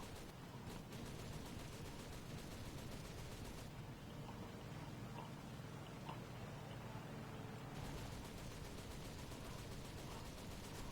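Machine gun fire in War Thunder, a continuous faint crackling rattle of sustained bursts with steady background game noise, far and quiet throughout.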